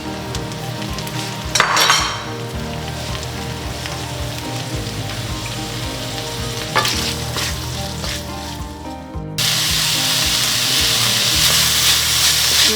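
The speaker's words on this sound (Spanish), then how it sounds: "voy a agregar un poquito de aceite más para poder freír nuestra cebolla. Y agregamos la cebolla." Chopped onion hits hot oil in a pan and breaks into a loud, steady sizzle that fills the rest of the clip, following quieter kitchen clatter and a couple of utensil knocks.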